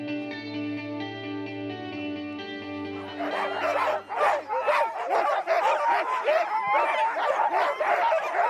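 A pack of sled dogs at a winter outfitter bursts into loud, dense, overlapping barking and yipping after a sustained tonal opening, and the excited chorus continues without pause to the end.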